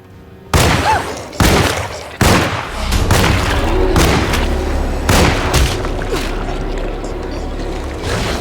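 Gunfire in the video game Alone in the Dark: six or seven heavy, booming shots in an irregular sequence, each with a long rumbling tail, loud and close, with no talk.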